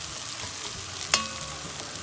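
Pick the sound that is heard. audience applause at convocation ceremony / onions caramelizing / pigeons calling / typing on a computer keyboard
onions caramelizing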